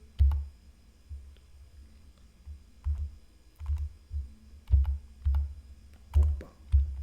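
Keys on a computer keyboard are pressed in a sparse, uneven series of soft, close clicks against a quiet room, no talking.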